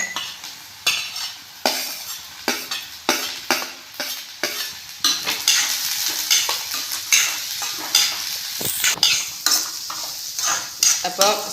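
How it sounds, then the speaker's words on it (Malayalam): Gobi manchurian with spring onion being stirred in a pan: a spoon scrapes and clinks against the metal in repeated strokes over a soft sizzle, close and clear, with no talk. "സ്പ്രിംഗ് ഓനിയൻ ചേർത്ത് കൊടുത്തിട്ട് നന്നായി ഒന്ന് ഇളക്കി ഇതുപോലെ മിക്സ് ചെയ്യുക"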